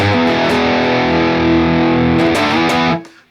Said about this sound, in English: But with the chorus on